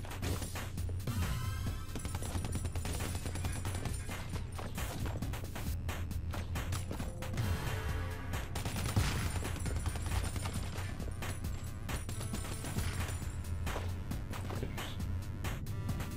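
Dense, continuous gunfire and crashing blasts from the side-scrolling game Super Time Force, running nonstop under a steady backing soundtrack, with no voices.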